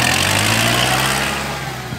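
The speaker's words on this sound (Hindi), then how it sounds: "क्या पिकअप है ट्रैक्टर का" A Kubota MU 4501 tractor engine runs loud and close with a steady, buzzing mechanical drone that eases slightly toward the end.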